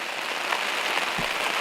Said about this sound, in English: of course it starts raining right when we don't want it to